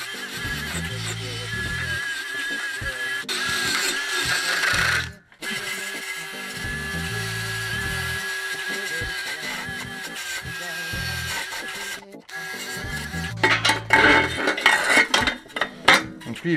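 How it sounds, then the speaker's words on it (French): A wire brush scrubs rust off the metal parts of an ISEKI A400F walk-behind tiller, giving steady rasping metallic strokes close by that break off briefly, then return harsher and more uneven toward the end. "je vais mettre un coup de brosse métallique là"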